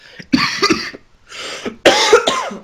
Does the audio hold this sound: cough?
yes